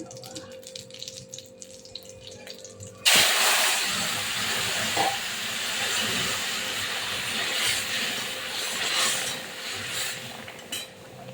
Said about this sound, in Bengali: আমি এবার তরকারি দিয়ে দিচ্ছি।